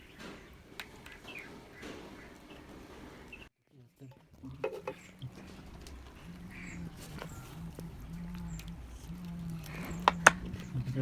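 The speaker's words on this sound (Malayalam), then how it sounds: "ഗ്രേ ഷെയ്ഡ് മിക്സ് ചെയ്ത് വെക്കാം" Grey PU thinner-based paint being stirred and mixed in a container, soft scraping and swirling strokes that come irregularly and grow busier toward the end.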